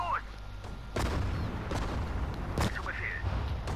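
Artillery cannon firing in the Sudden Strike 4 video game: two or three heavy booms stand out over the rumbling battle noise, and a voice talks faintly underneath.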